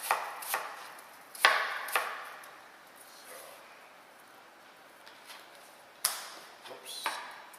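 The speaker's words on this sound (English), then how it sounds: "So cut it roughly. It doesn't have to be any particular way, but I'm just going to try to make little dices." A knife dices apples into small pieces on a cutting board. Several sharp, close chops fall in short irregular bursts with quiet gaps between them, and no talk.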